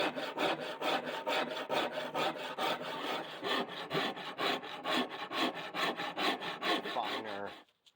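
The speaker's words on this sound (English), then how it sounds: "This is pretty rough file we're using" A rough hand file rasps across wood in steady back-and-forth strokes, close and crisp, about two strokes per second, continuing evenly for several seconds before stopping abruptly.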